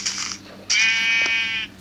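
A Minecraft sheep on a cow farm bleats twice: a short first bleat, then a longer, clear wavering one, loud and alone against a low background hum.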